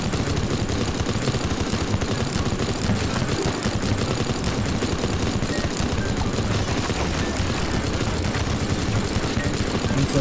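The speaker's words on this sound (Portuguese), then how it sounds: "E só com essa metralhadora mesmo, que eu acho que é mais rápido" Sustained machine gun fire in the destruction game Teardown, a continuous loud hammering barrage that runs without pause for about ten seconds.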